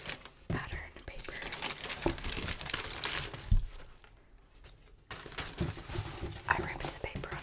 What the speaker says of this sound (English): I ripped the paper on accident.